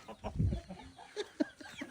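A pet chicken clucks in short soft bursts, a few close, quiet calls over faint background noise.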